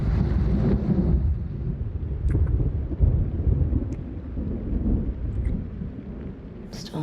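Thunder from an approaching storm rumbles continuously and loudly in a film scene, with rain and wind mixed in and a few sharper cracks, no voices.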